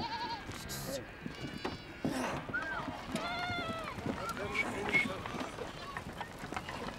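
A herd of goats and sheep in the Altai bleats repeatedly, with several overlapping, wavering cries close by over a busy background of shuffling and movement.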